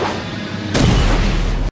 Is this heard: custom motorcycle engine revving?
no